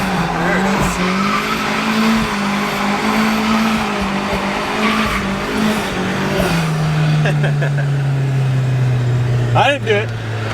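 A car with a welded differential drifts, its engine droning and shifting pitch while tires squeal in bursts, loudest near the end; people talk over the steady engine noise.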